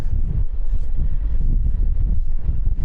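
Wind buffeting a microphone on a solo bikepacking tour leaving Herzegovina, a steady loud low rumble with gusty fluctuations throughout and no voices.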